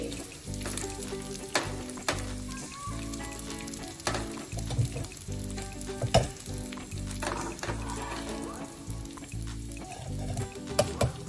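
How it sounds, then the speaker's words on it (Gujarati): Edible gum (gond) frying in hot oil for methi paak, a steady, close sizzle with bubbling crackles and occasional stirring clatter throughout, no talking. "આપણો ગુંદર પણ તળાઈ ગયો છે"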